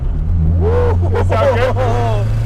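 A turbocharged car being driven gives a steady low engine drone, with rising and falling whistling surges from the turbo compressor swelling over it and voices faintly in the background.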